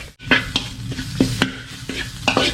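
Shrimp paste (kapi) stirred in a pan over low heat for rice mixed with shrimp paste, a gentle sizzle broken by several distinct spatula scrapes and clacks at irregular intervals, close and moderately loud with no talking.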